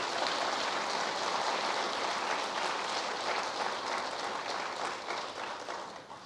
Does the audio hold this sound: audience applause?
yes